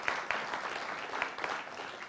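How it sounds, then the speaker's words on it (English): A congregation at a Seattle Unity Sunday service claps, a brief burst of many hands with a few sharper claps standing out, continuous throughout. "Can we give him another round of applause?"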